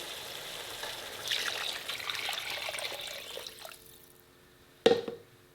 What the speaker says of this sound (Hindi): अब मैं ये 4 गिलास पानी इसमें डाल दूँगी।